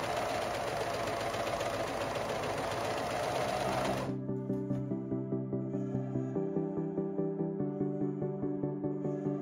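Sewing machine stitching a sun dress, first a fast, steady, loud whir, then a slower run of rhythmic needle thumps, close by with no talk.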